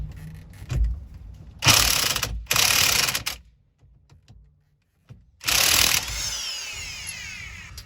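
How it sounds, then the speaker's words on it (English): An impact wrench hammers at a rusted steering wheel nut on a 1997 Jeep TJ in three loud rattling bursts close up, with quiet gaps of tool handling between them. "I'll use the impact to at least break the torque here on this bolt, on this nut."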